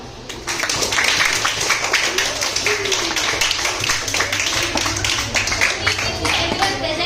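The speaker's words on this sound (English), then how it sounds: "Come on everyone, clap louder and cheer them on." A school audience at a Teachers Day celebration claps and cheers. The clapping is dense and fairly loud, with excited voices mixed in and a few sharper individual claps standing out.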